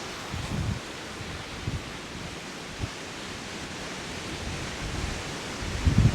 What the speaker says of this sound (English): It's absolutely blowing a gale out here.